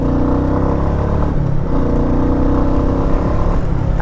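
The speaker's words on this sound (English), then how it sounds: "And the engine pulls very nicely." A Royal Enfield Meteor 350 single-cylinder motorcycle engine pulls steadily while being ridden, a loud, close, continuous low thrum with a rising pitch as it accelerates and no talking.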